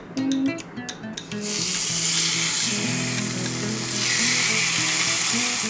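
A thick beef striploin steak sizzles loudly in hot oil in a pan, a steady bright crackling hiss that swells after a few clicks and scrapes at the start, with faint kitchen clatter and tones beneath.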